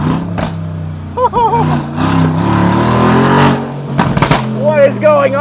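A heavily upgraded Mercedes G-Wagen engine roars loudly while driving, sustained and close, with people talking and exclaiming over it throughout.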